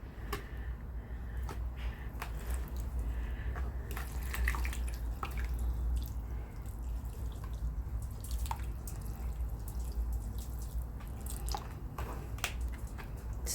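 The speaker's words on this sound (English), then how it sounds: "I'm just going to slowly pour water into it." Water trickles slowly onto a dry coco coir brick, a steady run of soft drips, wet squishes and faint crackles as the fibers soak, close and continuous with no talking.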